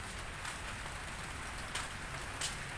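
Steady rain falls in Krong Siem Reap, Cambodia, in the rainy season, a dense even hiss with a couple of slightly louder gusts or splashes, with no voices present.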